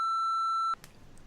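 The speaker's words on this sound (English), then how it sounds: "I could just bleep it out" A censor bleep on a podcast: one steady pure tone holds for under a second, loud and clean, then cuts off into faint background noise.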